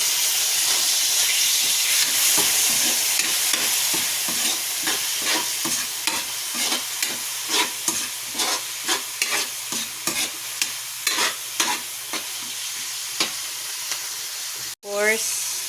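Ingredients sautéing for a Filipino monggo dish with dried fish, a loud hissing sizzle broken by rhythmic scraping strokes of a spatula against the pan, ending with a sharp clack.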